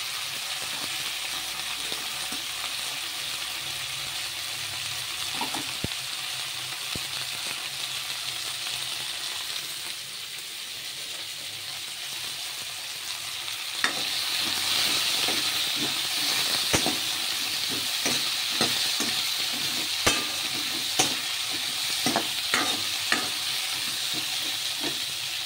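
Lentil bori and spinach fry in a pan with a continuous loud sizzle and hiss, while a spoon stirs and scrapes against the pan in scattered clicks that grow busier in the second half.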